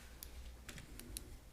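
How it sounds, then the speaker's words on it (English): Quiet computer keyboard typing at a meeting, a few soft, sparse key clicks against a faint room hum. "I didn't finish typing my note there."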